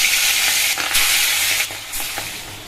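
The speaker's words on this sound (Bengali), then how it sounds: "আর কড়াইয়ে তেল দিয়ে দিয়েছি, তেল কিন্তু গরম হয়ে গেছে। এবার মাছগুলো দিয়ে" Hilsa fish coated in salt and turmeric fry in hot oil in a wok, giving a loud, continuous close-up sizzle with brief bursts of crackle and no voices.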